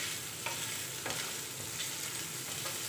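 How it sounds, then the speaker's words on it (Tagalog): Prawns browning in a hot pan give a continuous sizzle with a few brief scraping stirs breaking through, moderately loud and close, with nobody speaking. "ilagay ko na yan ang aking pan kasi kailangan ko magluto ng shrimp"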